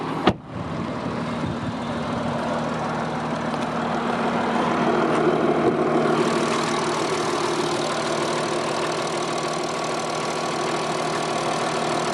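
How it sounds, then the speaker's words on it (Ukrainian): A cold 3.0 TDI diesel in an Audi A6 Allroad idling after start-up, a steady close rumble with a diesel clatter that settles into an even idle after a sharp start. "Робота холодного двигуна."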